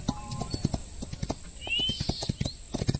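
Horse hooves galloping in the Rival Stars video game, a quick rhythmic clip-clop of repeated close hoofbeats, with a brief whinny partway through.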